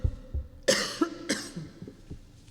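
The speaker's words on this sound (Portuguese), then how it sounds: "Essa tosse está terrível." Two harsh, close coughs in quick succession, followed by softer throat sounds and breathing.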